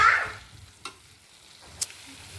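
Drumstick (moringa) stir-fry in a pan gives off a quiet, low sizzle, broken by two brief, sharp spatula clicks.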